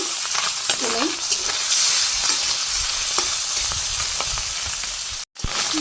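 Fish pieces frying in oil in a Bangladeshi village kitchen, a dense continuous sizzle with faint stirring clicks, close and even, briefly cut near the end, with no speech.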